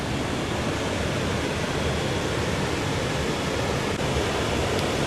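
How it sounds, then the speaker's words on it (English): Water pours continuously over a low water dam on a creek beside a pump intake structure, a steady broadband rushing roar, close and even, with no speech. "the water just flows over the low water dam here that they have"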